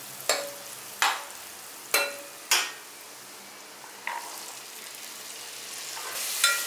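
Peas sautéing in a spice masala for matar pulao sizzle softly, broken by several sharp stirring clacks of a spoon against the pan and a few fainter scrapes.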